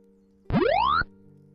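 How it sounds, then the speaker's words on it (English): A single retro 8-bit game sound, a rising electronic sweep lasting about half a second, bright and synthetic over a faint background hum. "Yeah, that's the sound of when he's actually eating it."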